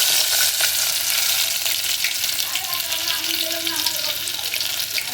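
Garlic fries in a pot of hot oil on a gas stove, giving a steady, loud broadband sizzle that runs unbroken throughout with no talking.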